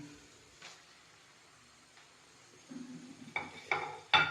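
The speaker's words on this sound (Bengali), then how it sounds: "কিছু টাইমের জন্য এবার ভুনতে থাকবো পালকটাকে, যতক্ষণ মেল্ট না হতে পারে।" Chopped spinach fried in a pan with coriander powder, a soft low sizzle broken by occasional spatula scrapes that grow louder and busier toward the end.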